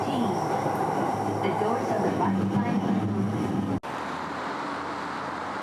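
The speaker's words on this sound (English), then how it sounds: "It's a pretty ride, with some of the rail line above ground as the train passes old waterways." A train rumbles along an elevated rail line toward Tokyo Station, a steady loud roar of wheels and carriage noise with faint voices underneath, broken by an abrupt cut to a quieter hum.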